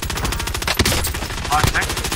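Rapid automatic gunfire in Call of Duty: Warzone rattles in a fast, even rhythm throughout, loud and continuous with a few sharper bursts.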